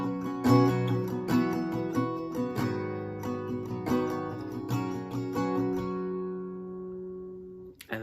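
Acoustic guitar strumming the chords of a song, several rhythmic strums and chord changes ringing close, the last chord left to fade out, no talking.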